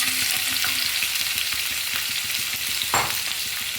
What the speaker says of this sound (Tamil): இப்போ அதே எண்ணெயில் 1/4 கிலோ கோவக்காங்க, இந்த மாதிரி கட் பண்ணியிருக்கிற கோவக்காவை சேர்த்துக்கலாம்.